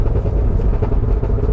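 A 2023 Cadillac Escalade V with its exhaust in loud V mode gives a deep, steady rumble with strong low-end throb, close and loud throughout, no talking.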